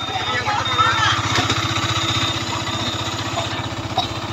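A Yamaha R15 V3 BS6 motorcycle runs after an engine replacement, idling close up with a steady, rapid low thumping pulse that stays even throughout.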